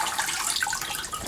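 Cold tap water running over a bleached denim shirt as it is rinsed, a close, bright splashing hiss with small fluctuations, steady and fairly quiet.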